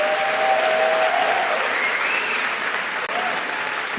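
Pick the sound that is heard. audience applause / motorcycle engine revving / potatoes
audience applause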